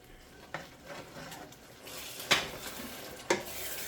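A pepper, jerk seasoning and coconut mixture stirred in a pan, with soft continuous scraping, a faint sizzle and a few sharp utensil clacks against the pan, quiet and close.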